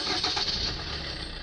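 A 2016 Suzuki Ertiga started with its push-button smart key, its engine running as a steady, even hum throughout.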